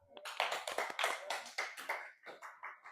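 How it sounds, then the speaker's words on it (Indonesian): Classmates clap for a student in a classroom, a burst of many hands giving quick, uneven applause that swells early and tapers off over about three seconds, close and fairly loud. "Boleh tepuk tangan untuk Risa."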